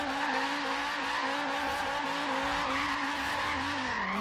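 Chevrolet Bel Air drifting through tight village roads in Forza Horizon 3, with a steady engine drone and tire squeal running continuously and loud throughout, pitch dipping slightly near the end.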